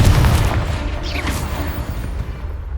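Confringo blasting spell going off in the Hogwarts Legacy video game: a deep, booming blast with low rumble up front, then a whooshing burst and a rolling tail under continuous game noise; no talking.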